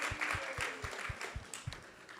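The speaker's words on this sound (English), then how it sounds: "So let's give them a big round of applause as well." Audience applause at a Krishna Katha devotional discourse, a steady run of hand claps from a small crowd with distinct individual claps standing out, moderately close and carrying on evenly throughout.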